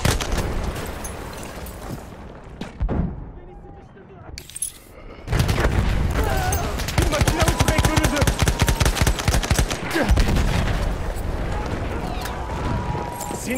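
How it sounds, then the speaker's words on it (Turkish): Battlefield 1 multiplayer battle: a grenade blast followed by dense, rapid gunfire bursting loudly and continuously, with a quieter stretch before the shooting erupts. "Dikkat! Bomba atıyorum!"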